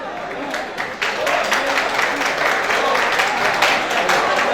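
Sustained applause from a crowd at a Turkmen wedding celebration, steady and dense clapping throughout with voices mixed underneath.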